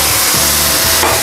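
Beef dropped into thick, sticky Mongolian sauce in a hot pan, a loud, dense, constant sizzle and bubbling hiss right up close, with no voices.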